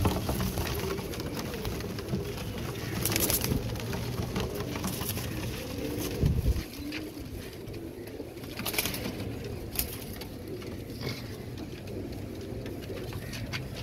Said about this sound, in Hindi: ये कुरीद में है कबूतर